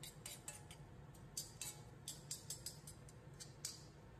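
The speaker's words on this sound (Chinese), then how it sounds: "再一次用勺子把它按平" A spoon pressing shredded potato flat in a frying pan, light metallic taps and clinks repeating irregularly over a soft continuous background, close and fairly quiet, with no voices.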